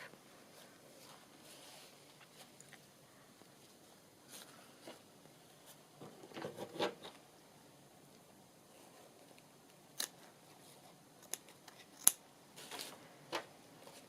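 Scissors snip a craft ribbon in half, a few faint crisp clicks and cuts scattered across a quiet room, with soft rustling and handling noises between them.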